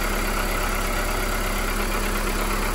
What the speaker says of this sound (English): I am going to switch on the engine